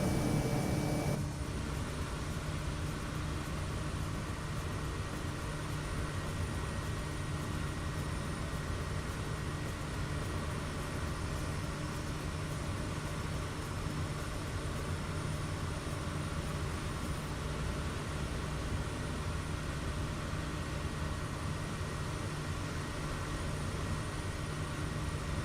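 Steady, even drone of a Kodiak bush plane's engine in a flight simulator as it flies over mountain ridges, unbroken and constant throughout with no voices.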